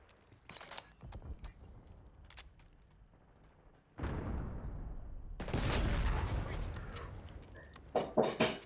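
Video game gunfire: sporadic single shots at first, then a sudden loud burst of sustained automatic fire that keeps going with some crackling shots toward the end.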